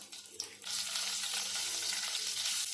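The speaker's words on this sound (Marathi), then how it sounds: "तेल गरम झालं ना की थोडं जिरं आणि राई टाकून घ्यायचे थोडं हिंग टाकलंय आणि इथे मी हिरव्या मिरच्या घेतल्यात त्या मी दोन टाकून घेते" Cumin and mustard seeds with green chillies and a pinch of asafoetida crackle and sizzle in hot oil, starting quietly and quickly swelling to a loud, steady frying hiss.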